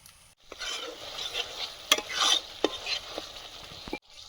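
Fish curry gravy with yogurt bubbles and sizzles in a pan, heard up close as an irregular crackling simmer with scattered pops and a brief quiet gap near the end.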